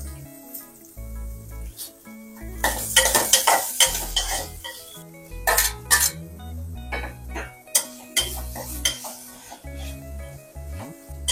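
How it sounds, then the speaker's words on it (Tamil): Onions sautéing in a pan for puri masala, with sporadic stirring scrapes and metal clinks of a spoon against the pan over a soft sizzle, in uneven bursts close by. "வெங்காயம் போட்டு நல்லா வதக்கிட்டு அப்புறம் தக்காளி போட்டு வதக்கலாம்"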